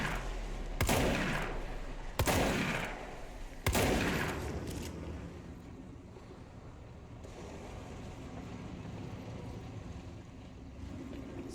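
Three heavy shotgun blasts from the video game Control fire at roughly 1.5-second intervals, each loud and booming with a short decay, followed by a low rumbling ambience that lingers to the end.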